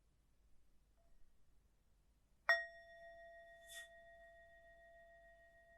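A single meditation bell is struck once and rings out with a clear, sustained tone that slowly fades, with a faint small chime shortly after in an otherwise quiet room.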